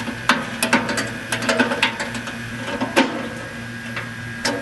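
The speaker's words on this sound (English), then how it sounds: "I'm gonna make sure I tighten that bolt really good" Pliers tighten a bolt on an old barbecue grill, producing irregular metallic clicks, taps and scraping knocks up close, with sharp individual snaps scattered between softer rattling.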